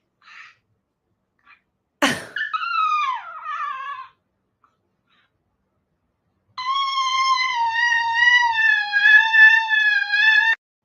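A chihuahua yips and howls in a short burst, then after a pause sings a long, sustained, wavering howl with whimpering overtones, close and fairly loud.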